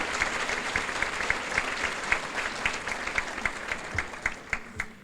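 A room of guests at a charity luncheon gives a round of applause, with many hands clapping in a steady, moderately distant patter that lasts several seconds without talk.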